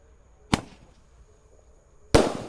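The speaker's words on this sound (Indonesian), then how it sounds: "menyalakan banyak sekali mercon dan petasan spesial malam Ramadan hari ke-12" Two sharp, loud firecracker blasts go off at night about one and a half seconds apart, each followed by a brief crackling decay, set off during a Ramadan night celebration.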